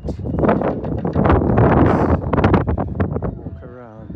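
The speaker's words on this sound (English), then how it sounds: "Sorry about the wind." Gusty wind buffets the microphone at a windy mountain summit, a loud low rumble under a person talking throughout.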